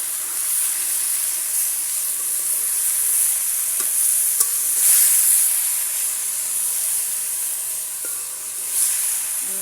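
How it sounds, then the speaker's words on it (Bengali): Red amaranth greens are stirred and fried with onion and garlic in a pan over a wood-fired stove, a loud continuous hiss of sizzling with occasional scraping stirs and brief clicks. "শাকটাকে নেড়ে দিচ্ছি ফোড়ন দিয়ে"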